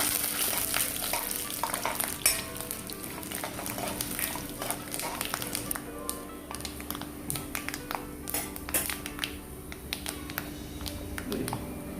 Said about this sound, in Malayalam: ഉഴുന്നുപരിപ്പും പരിപ്പും കടുകും എല്ലാം മൂത്തിട്ടുണ്ട്